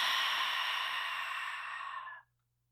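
A long audible exhale during yoga breathwork, breathed out through the throat as one steady breathy rush lasting about two seconds before cutting off into silence.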